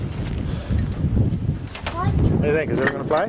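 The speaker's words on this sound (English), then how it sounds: "Except it's windy out here." At an airfield beside a 1946 Taylorcraft BC-12D light plane, wind buffets the microphone with a low, gusty rumble while people talk close by.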